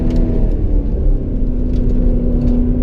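A Chevy Corvette Z06 with Z07 package and automatic gearbox, run in manual mode on a figure-eight track, gives a loud, steady low engine rumble with a sustained drone, heard from inside the car.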